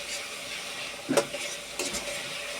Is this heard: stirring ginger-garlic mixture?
yes